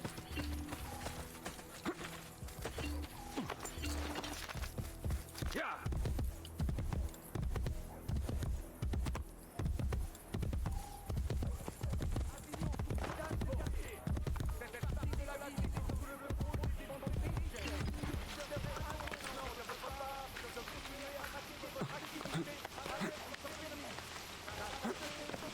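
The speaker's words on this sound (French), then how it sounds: "Qu'est-ce qu'il me fait ce cheval?" Horse hooves clip-clop steadily in an Assassin's Creed video game, the rhythmic steps loud and close, with a neigh and rain-like background noise, and someone talks over the sound at times.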